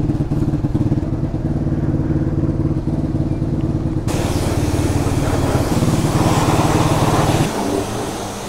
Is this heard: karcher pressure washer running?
yes